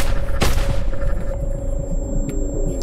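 Gunfire in the video game ROT: one loud booming shot early on, then a low rumbling hum and a fainter crack later, with no talk.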